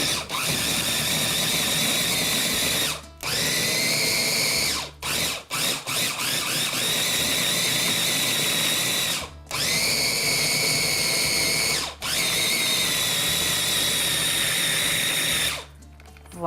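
An electric mixer whirs loudly and steadily while blending food for chicken medallions, running in long continuous stretches broken by a few brief stops.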